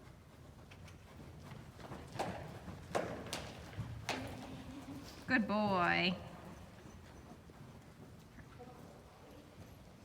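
A few scattered horse hoof clops on hard ground, with a brief spoken remark and a short whinny-like squeal in the middle.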